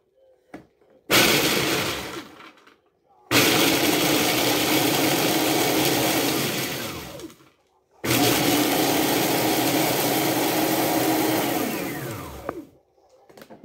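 A food processor grinds about two cups of Cheetos in three long, loud bursts of harsh whirring, separated by short pauses of quiet.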